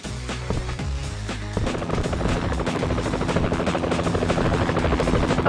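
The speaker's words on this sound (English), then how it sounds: "I'm communicating with the rescue helicopter!" A loud, steady rescue helicopter rotor drone fills the scene in the mobile FPS game Fatal Raid, layered with busy game sound effects and occasional sharp bursts.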